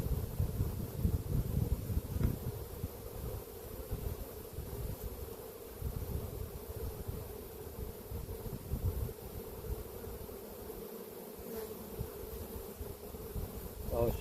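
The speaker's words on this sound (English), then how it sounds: "So I'll shake a few bees into that one, into the container." A dense, steady hum of many honeybees buzzing around an opened beehive during a varroa mite check, close and continuous with faint wind noise and slight fluctuations.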